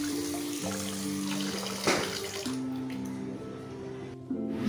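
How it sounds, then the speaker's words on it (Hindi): Running tap water splashes continuously as raw liver is washed in a kitchen sink, a steady close stream with brief shifts in the flow. "जहाँ पे मैं कलेजी धो रही हूँ"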